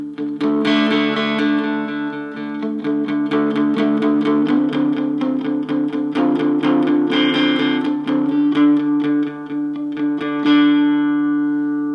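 A clean electric guitar picked gently through tube preamps, sustained notes ringing and overlapping with a warm, steady tone and no voices.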